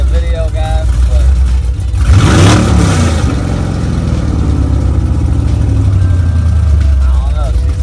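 Chrysler 300c engine with a Walbro 450 fuel pump installed idles, then revs sharply around the two-second mark before settling back to a steady rumble, with talk in the background.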